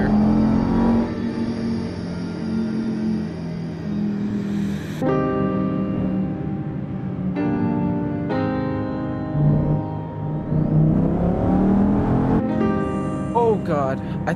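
A tuned 754 bhp BMW M5 E60 heard from inside while driving: a deep engine drone that climbs through gears with rising harmonic whine and shifts, loud and continuous, with a little talk over it.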